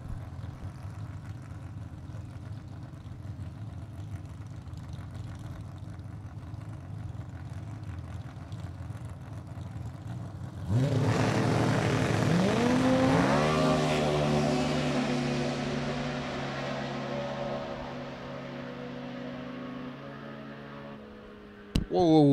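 A drag racing car at Lucas Oil Raceway launches after a quiet hum, its engine note suddenly loud and climbing through the gears, then fading slowly into the distance down the track.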